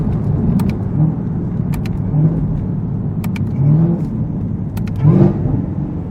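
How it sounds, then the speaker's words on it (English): A car fitted with a Corsa Performance cold air intake revs at low speed, a steady loud engine drone with rising whiny tones swelling and fading several times, plus occasional sharp ticks over the rumble. "Like low speed like that, where you can hear the intake and the whine."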